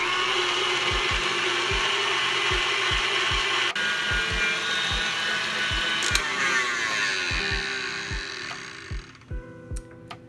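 An electric mixer beats egg whites and sugar for chocolate raspberry macarons, giving a steady motor whir with rhythmic clicking. The whir runs close and fairly loud, then drops away near the end. No one speaks.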